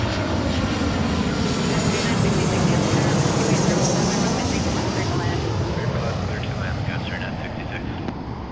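A passenger jet in special livery arrives on runway 34L at Seattle, its engines a loud, sustained roar that builds and then slowly fades, with a person talking over it.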